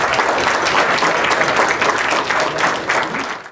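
Hall audience at a finalist speech event breaking into applause, dense steady clapping that fills the room and holds strong throughout before easing at the very end.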